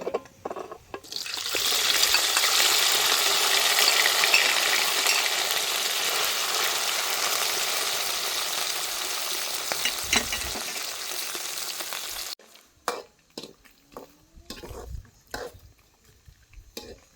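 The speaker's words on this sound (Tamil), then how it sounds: "மிச்சத்தையும் போட்டு பொரிக்கும்." Meat for kothu roti sizzles loudly and steadily in hot oil in a pan for about eleven seconds, then the frying stops abruptly, leaving scattered clinks and soft handling noises.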